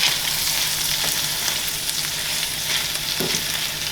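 Red chorizo, chopped yellow onion and yellow squash being mixed in a hot pan, a loud steady sizzle with a few soft scrapes of the utensil through the food.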